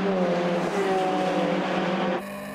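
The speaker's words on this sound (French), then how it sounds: "Un envol que l'on revit depuis l'habitacle de la Golf, issu des ateliers de Jean-Marie Dehaye" A VW Golf 2 race car at a race start at Spa-Francorchamps roars loudly and continuously, engine note rising with steady harmonic whine, then dropping abruptly near the end as the perspective shifts.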